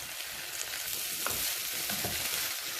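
Long beans stir-frying in a pan for mezhukkupuratti give off a steady broadband sizzle, with a few soft scrapes and clacks as they are tossed and turned, close and continuous.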